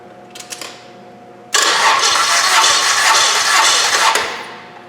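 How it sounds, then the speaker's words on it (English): Engine cranking with the throttle held open during a cylinder compression test on cylinder one: a loud, steady starter-driven churn bursts in abruptly after quiet ticking, holds for about three seconds, then tapers off. "I'm going to crank the engine until I hear"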